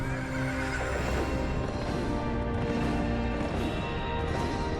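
A dragon horse in the video game Wo Long: Fallen Dynasty lets out a long neigh over clip-clopping hooves, loud and close against a dense backdrop of game sound.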